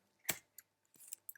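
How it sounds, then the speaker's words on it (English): A few faint, crisp crunches spaced irregularly in an otherwise quiet room, a cat chewing dry biscuits nearby. "If you can hear some crunching in the background,"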